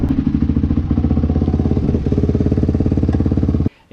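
A Kawasaki KLX250R with a modified carburetor idles steadily, its single-cylinder putter loud and near in a quick even rhythm before cutting off abruptly near the end.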